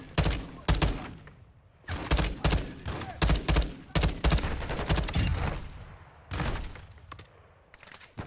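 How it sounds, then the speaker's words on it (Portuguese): Repeated bursts of rapid gunfire in the video game Call of Duty: Warzone 2.0 crackle in loud volleys, separated by short pauses, with rattling echoes trailing after each burst. "Só troca tiro onde eu tô, que eu já vou começar a trocar tiro aqui"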